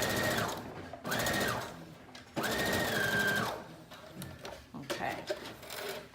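A sewing machine stitches a dress seam in several bursts, with whirring runs of needle hum broken by brief pauses and softer fabric handling, close and fairly quiet.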